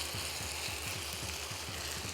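Minced meat cooking in a pan with milk, a soft steady sizzle with faint stirring, quiet and close, with no voices.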